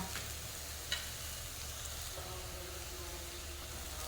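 Chow mein is stirred in a frying pan, a soft, steady sizzle with faint scraping and one small clink, quiet and close.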